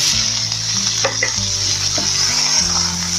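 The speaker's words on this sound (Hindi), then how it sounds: "प्याज को जो है हल्का पिंक होने तक हम इसको फ्राई करेंगे" Onions frying in hot oil in a pan, a loud steady sizzle throughout, close and continuous with no talk.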